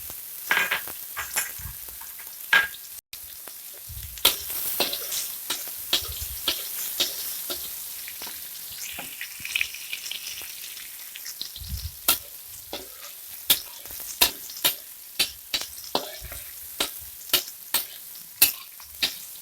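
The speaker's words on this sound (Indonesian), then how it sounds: "kita tumis bawang merah" Shallots sautéing in butter and vegetable oil in a wok or pan: steady quiet sizzling broken by frequent sharp scraping and stirring clicks from a spatula, fairly close, with no talking.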